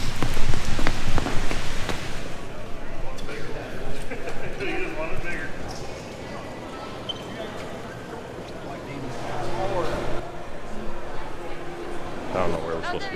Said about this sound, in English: rainy and nasty outside